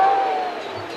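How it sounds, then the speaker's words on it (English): Crowd noise swells at a World Baseball Classic qualifier ballpark as a fastball comes in, a broad roar of cheering that stays loud for a second before easing slightly. "Here comes the crowd again."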